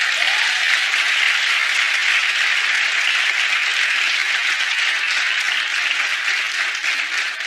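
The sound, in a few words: studio audience clapping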